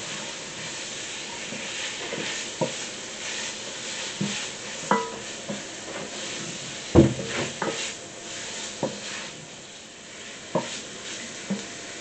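Lardons sizzle steadily in a pan under a constant frying hiss, with intermittent scraping knocks as they are stirred, the loudest clatter about midway through; no talking.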